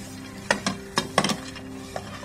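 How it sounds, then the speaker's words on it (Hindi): Chopped fried nuts are stirred into cooked dates in a pan, with a spoon scraping and clinking against the metal in a few irregular strokes over a light sizzle. "अब इसमें डाल देते हैं चॉप किए हुए नट्स जो हमने फ्राई करके रखे थे मिक्स कर लेंगे"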